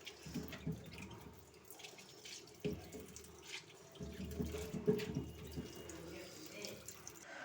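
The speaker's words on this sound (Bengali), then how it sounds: "উচ্ছেগুলো নিয়ে নিয়েছি আর ভালো করে কষলে কষলে ধুয়ে নিচ্ছি এক এক করে" Bitter gourds are washed one by one under a running kitchen tap, water splashing steadily into the sink with brief knocks and handling sounds, close by and moderately loud, without talking.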